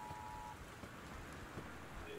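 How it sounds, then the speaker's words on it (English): Steady rain with wind from a storm in the video game Gone Home, a constant broadband wash of downpour at even loudness with no voices, a brief faint tone near the start. "The Northwest Weather Service reports high winds and torrential rain conditions"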